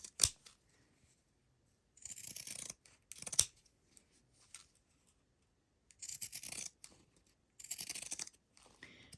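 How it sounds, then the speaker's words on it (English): Scissors snip loose threads off a fabric bookmark in short, close bursts of cutting and rubbing, separated by quiet pauses, with no talking. "Then we'll cut all our scragglies off."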